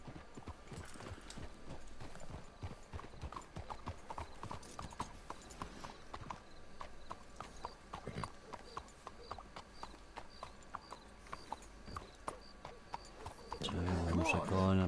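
Horses clip-clop in steady hoofbeats through a Red Dead Redemption 2 game scene, the rhythmic clopping running under occasional talk, with a louder rumble rising near the end.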